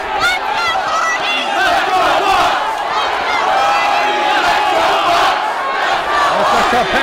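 Capacity wrestling crowd roaring and cheering in an arena, a loud, continuous wall of shouts and yells split between two sides, steady throughout with chants rising and falling.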